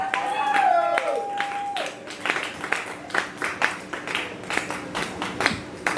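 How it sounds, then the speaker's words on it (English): Scattered audience clapping at a live comedy show, sparse uneven claps that gradually build into a looser patter, with a brief tonal sound and a voice near the start. "Clap it up for Ryan Panucci and his fans, guys."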